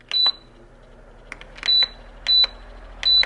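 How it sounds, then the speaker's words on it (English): An electric fan beeps at each button press, four short high-pitched electronic beeps spaced unevenly over a few seconds, loud and clear against a quiet room. "this fan, for some reason, feels the need to beep for everything you do"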